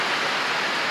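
Heavy afternoon rain overflowing a roof gutter makes a loud, steady, dense hiss of pouring water with no break or voices.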